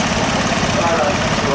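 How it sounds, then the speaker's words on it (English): A compact tractor's engine runs loud and steady in the arena at the Laughton Autumn Show 2024, a close, continuous low throb. "I've got another compact tractor here."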